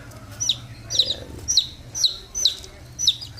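Newly hatched gamefowl chicks from a Bonecrusher and Binabae cross peep in a steady run of high, sharp chirps, roughly two per second, close by over a faint low hum.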